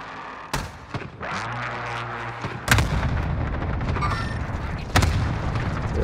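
Gunfire in Call of Duty: Warzone, with three sharp, loud shots spaced about two seconds apart over a rumbling battlefield background.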